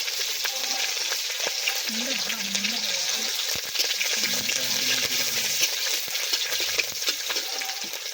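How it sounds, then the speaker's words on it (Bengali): Bay leaf and two green chilies are tempered in hot oil in a wok during an outdoor cookout on a pond in heavy rain, giving a continuous close sizzle and spatter with occasional stirring clinks. "কড়াই এবার আরেকটু তেল দিয়ে দিচ্ছি তো ফোড়নে দিয়ে দেবো একটা তেজপাতা কাঁচা লঙ্কা দুটো"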